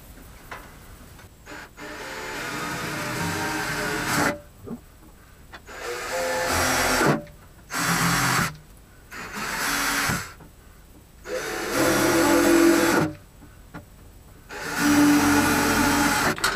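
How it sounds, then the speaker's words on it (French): A drill bores screw holes while a CO2 laser tube is being installed, whirring in about six loud, close bursts of a few seconds each, with quiet gaps between them. "Je peux donc enlever mon gabarit et venir percer les trous."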